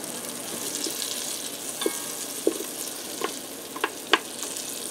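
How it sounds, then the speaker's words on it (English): Butter melting in an Instant Pot on the normal sauté setting gives a soft, steady crackling fizz with a few sharper pops scattered through, close and fairly quiet, with no talking. "now that my butter's starting to melt down"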